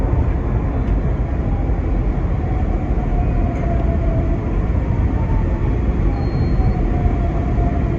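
Steady rumbling roar of a Market-Frankford Line subway-elevated train running on rails, loud and continuous throughout, with faint high squeals drifting in and out.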